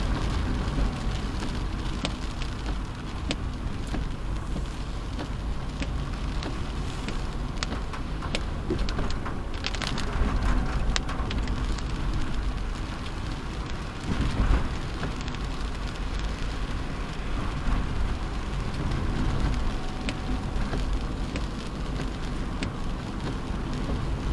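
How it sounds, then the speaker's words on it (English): Heavy rain falls steadily on a car while driving in Jamaica, a dense continuous hiss and patter with road rumble underneath, loud and unbroken throughout. "Look at the rain, not even gonna take you up to Stony Hill either."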